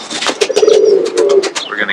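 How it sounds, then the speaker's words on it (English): Roller pigeons coo in low, throaty rolling phrases at close range, several overlapping calls across the short stretch, with faint outdoor voices in the background. "some of these pigeons."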